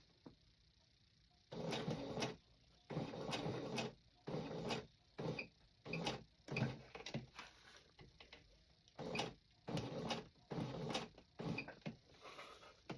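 A sewing machine stitches fabric for a mini camper in repeated bursts of fast, close whirring and clatter, separated by short pauses.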